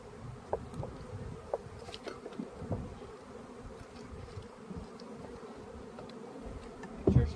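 Honey bees buzz around an open beehive during a hive split, a soft continuous hum with scattered louder passes of individual bees close by and a brief rustling knock near the end.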